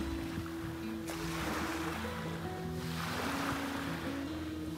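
Sea waves washing onto a shore on Saudi Arabia's northwest coast, a steady broadband wash with surging swells, mixed with wind noise and a low background hum, no talk heard.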